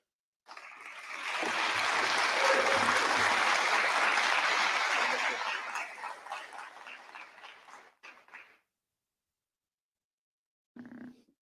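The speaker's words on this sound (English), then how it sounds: "one more round of applause, please" Conference audience at Port Tech in San Antonio breaking into loud, sustained applause that swells for several seconds, thins into scattered claps, then stops, followed by a short burst of noise.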